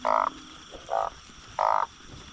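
Narrow-mouthed frogs croak on a rainy night in Nakhon Ratchasima, three loud close buzzing croaks with gaps between them, no voices.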